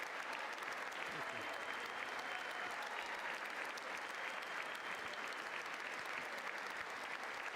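A large audience at a State of the Union address applauds the former Vice President, a sustained wash of clapping that holds steady throughout, with no voices over it.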